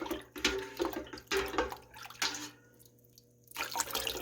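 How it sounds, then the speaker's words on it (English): Acid dye is stirred into water in a stock pot, giving close sloshing and splashing in irregular bursts, then a brief quieter pause before the swirling resumes, over a low steady hum. "I'm going to put it into the water and stir it around."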